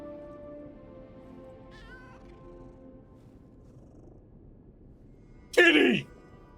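A cat meows in the video game Lies of P. One sharp, loud meow comes near the end, after a quiet stretch with faint music and a voice earlier on.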